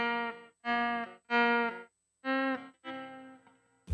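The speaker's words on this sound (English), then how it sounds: "That's my poor imitation of doing a volume swell." Electric guitar through a Supro amp preset with reverb and a volume pedal, playing five sustained chords that each swell in gradually from silence, separated by short gaps, clean and alone.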